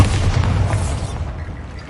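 Bombarda spell blast in a Harry Potter video game: a loud, close low boom that rolls on for about a second and then fades.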